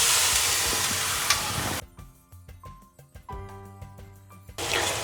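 Spice paste with turmeric for egg tarka hissing loudly in a hot pan as water is added, a broad steamy sizzle that cuts away to quiet background music, then the hiss returns.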